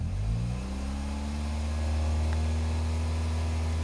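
A Saab 9-3 2.0t engine revving as the throttle opens, its pitch climbing smoothly from idle to a sustained higher drone, close and steady with no talk.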